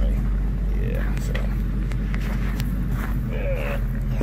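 An old project car's engine idles after being started, a steady low rumbling drone close by, with people talking over it.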